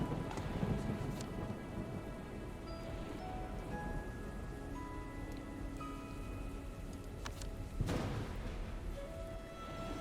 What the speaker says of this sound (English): The peaceful music and the thunderstorm don't really match